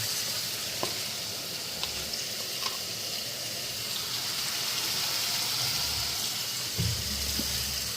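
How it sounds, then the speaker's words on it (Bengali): Spice masala with green chillies fries in a pan, giving a continuous close hiss and sizzle with a few light clicks and stirring scrapes, louder near the end. "আর এই যে কাঁচা লঙ্কা, মশলাটা ভালো করে ফ্রাই করে নিই"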